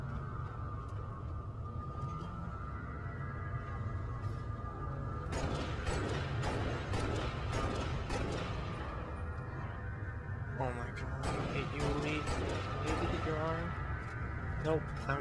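Bursts of gunfire and mechanical clatter in the video game Halo Reach, repeated shots with booming low rumble under a steady game background, while a player talks over it.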